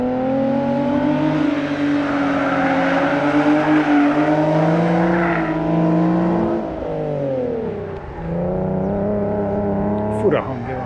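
An Infiniti G37 S Coupe V6 launches hard, its engine note climbing loud and close through a long rising pull, dipping at a gear change before surging again, with people talking over it.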